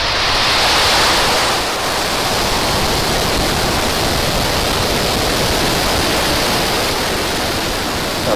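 A SpaceX Falcon 9 rocket lifting off sends a steady, broadband roar that fills the whole stretch, a dense crackling rumble that holds at constant loudness with no voices over it.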